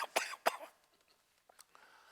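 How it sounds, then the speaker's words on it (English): A man coughs twice in quick, harsh bursts close to the listener, then only faint quiet rustling follows. "The doctors told me that cough would go away in a few weeks."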